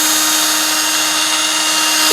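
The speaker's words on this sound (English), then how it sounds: "Now I've got my drill right here, and there's a little polishing pad on here." An electric drill fitted with a small polishing pad buffs the frets of a 1989 USA Fender Telecaster, giving a steady, loud, continuous whir with a constant motor tone throughout and no talking.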